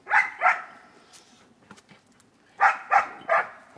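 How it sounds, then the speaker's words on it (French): A search and rescue dog at a training exercise barks in two short pairs, then a burst of three quick barks, fairly close, with faint background sounds in the gap between. "Je crois qu'elle doit encore aboyer plus"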